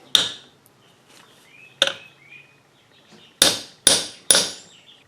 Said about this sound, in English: Hammer that in.